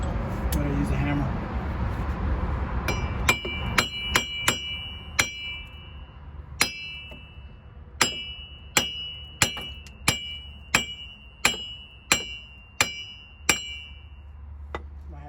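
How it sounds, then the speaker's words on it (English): Sharp metallic hammer strikes knock at a 2005 Cadillac Escalade AWD wheel bearing, about a dozen ringing blows at a steady pace after a brief stretch of shop noise and talk. "We gotta smack it out. I'm gonna use a hammer."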